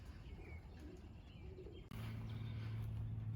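Pigeons coo softly outside near their loft, low murmuring calls with faint chirps and a brief flutter, followed by a steady outdoor hum after a short cut.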